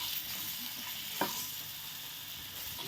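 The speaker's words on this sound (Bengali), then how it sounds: "এইভাবে উল্টায়ে পাল্টাইয়ে দিয়ে ভেজে নিব" Green chillies frying in a pan and being turned over: a steady, fairly faint sizzle throughout, with a brief scrape or clink from turning the chillies about midway, close by and with no voices.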